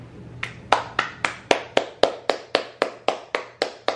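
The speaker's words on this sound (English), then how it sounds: "Round of applause for the boys." About fourteen evenly spaced single hand claps in a steady rhythm, sharp and close, each standing alone with no crowd behind them.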